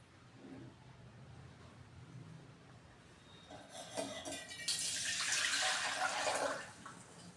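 Room-temperature water poured over vermicelli in a bowl, a soft trickle at first that swells into a loud, splashing rush of water before easing off at the end.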